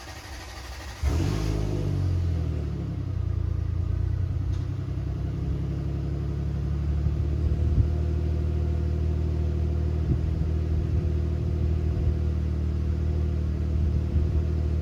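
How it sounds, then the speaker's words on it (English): A truck engine, fitted with a new lithium battery, cranks briefly and catches, then settles into a steady close idle rumble with small revs, no talk over it. "It took about 5 seconds for my truck to start first time, very normal."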